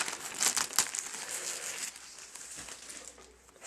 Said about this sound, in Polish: Rozrywamy oczywiście pierwszą sztukę.